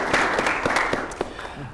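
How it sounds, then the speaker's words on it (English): Audience applause in a lounge during a talk-show style discussion, a dense burst of clapping with a few sharp individual claps and cheers, fading slightly by the end. "Let's get a round of applause"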